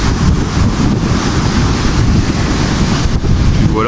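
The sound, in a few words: large ocean waves breaking on a Crete beach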